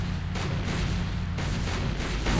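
A heavy explosion from the video game Sam & Max 104 rumbles loudly with deep booming bursts and crackling debris that roll on continuously without pause.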